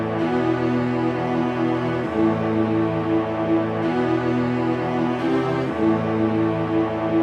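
A sampled cello section from the Chamber Orchestra 2 plugin plays a sustained counter melody, smooth bowed chords shifting every couple of seconds at steady, full loudness with no voices.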